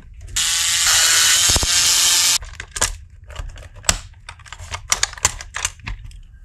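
Screws being backed out of the plastic shell of a Nerf Fortnite HC-E blaster: a sustained ratcheting screwdriver whir for about two seconds, then scattered close clicks and rattles of small parts, with no talking.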